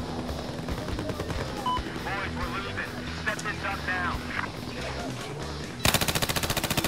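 Automatic gunfire crackles through a Battlefield 4 match, with rapid bursts and a loud, fast rattling volley at the end, heard under a busy mix of game sounds and voices.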